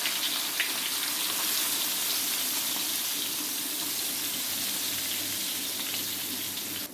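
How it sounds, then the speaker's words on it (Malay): Washed anchovies fry in a pan of hot oil, giving a dense, steady sizzle that stays close and constant throughout, with no one speaking. "Sekarang kawan-kawan dengar ya, ada bunyi minyak ni kan"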